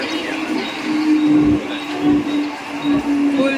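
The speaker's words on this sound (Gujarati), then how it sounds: "અમારી ટ્રેન આવવાની છે 1 નંબરના પ્લેટફોર્મ ઉપર" A Mumbai local train rolls in at a station platform with a loud rumble, rhythmic wheel clatter and a sustained droning hum, close by.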